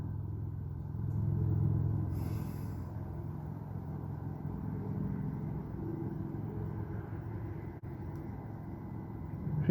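Steady low rumble of a tugboat engine held at about quarter throttle while heading upriver, a constant drone throughout with no voices.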